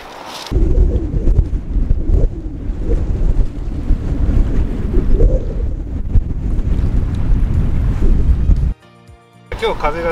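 Strong wind roars across a boat at sea off the Pacific coast of Shikoku, a loud, continuous buffeting rush with splashing water that cuts out abruptly near the end.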